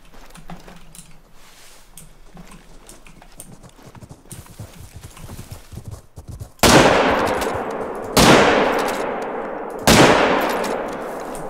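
Three loud, close gunshots ring out at water buffalo in theHunter, each with a long decaying echo, after a stretch of quieter rustling and hoof-like footsteps.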